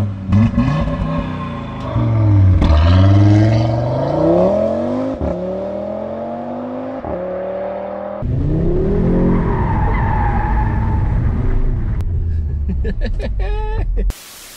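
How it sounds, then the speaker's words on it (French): Audi RS3 cars of two generations launch hard from a stop in a drag race, engines roaring up through rising revs with tire squeal, loud and close, with sharp breaks as gears change. "on vient de nous faire le petit départ arrêté"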